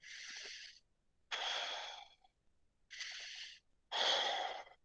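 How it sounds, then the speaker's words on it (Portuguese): Close, audible human breathing: four slow, airy breaths alternating in and out with short pauses between them, no talking. "Eu estou respirando agora."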